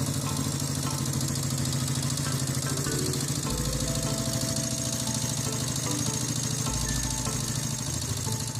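Antique Honda CB motorcycle engine running steadily, a continuous loud mechanical drone with rapid knocking pulses and low rumble throughout, alone with no voices.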